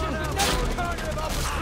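Enemy gunfire in the video game Far Cry 3, a quick volley of shots mixed with game sounds, with someone talking over it.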